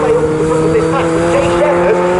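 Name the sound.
Fun Cup race cars passing the start-finish line at Snetterton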